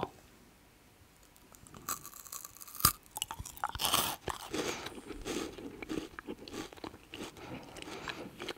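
A crunchy vegan KitKat chocolate wafer bar is bitten and chewed close to the mic, one sharp crisp snap followed by irregular crackling crunches that gradually soften, with no talking.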